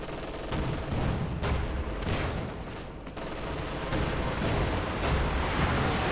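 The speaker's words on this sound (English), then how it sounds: "Another Panzerwerfer barrage, which wipes out another crew" A Panzerwerfer rocket barrage in the video game Company of Heroes 2: dense overlapping blasts and crackling explosions roll on continuously at high loudness, with no talk.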